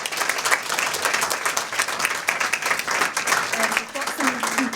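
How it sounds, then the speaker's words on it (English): An audience at an inaugural professorial lecture event claps in a dense, lively round of applause, with a voice speaking over the clapping for much of it. "I want to ask you to give them another round of applause"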